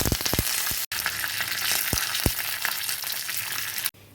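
Dried red chillies and curry leaves crackle loudly in hot oil, a dense, steady sizzle broken by a few sharp pops and spatters at the start, nearby and with no one talking.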